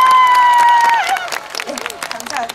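An audience of children at a Children's Day outdoor festival claps and cheers before a Seoul junior choir performs. A sustained tone fades into lively scattered clapping, shouts and crowd noise, with voices mixed in.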